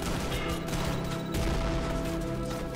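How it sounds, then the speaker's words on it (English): Dense, loud gunfire crackles continuously with booming grenade blasts mixed in, a chaotic firefight in the video game Trepang 2 filling the whole moment. "Firefights turn into great displays of explosion and gunfire"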